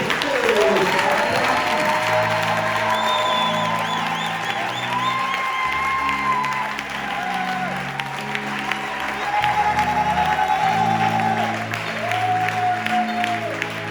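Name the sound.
congregation applauding God in church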